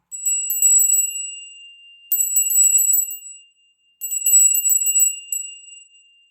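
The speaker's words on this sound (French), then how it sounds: "avec ma petite cloche, de 3 coups" A small hand bell rings bright and clear in three separate bursts, each a quick run of high tinkling strikes, close and alone in near silence.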